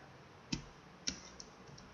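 Two or three isolated key presses clack on a computer keyboard at a moderate distance, sparse and faint, with no voices.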